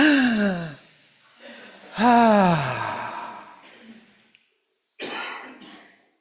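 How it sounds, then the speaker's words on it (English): A person breathes slowly and audibly, with long deep sighing inhales and exhales separated by short pauses, close and fairly loud, alone without talk. "Breathe with me."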